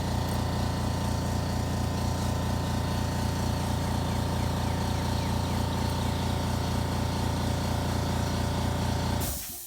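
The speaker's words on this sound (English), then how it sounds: "Let me turn this compressor off." An air compressor runs with a loud, steady mechanical drone and rattling pulses, then cuts off abruptly at the end.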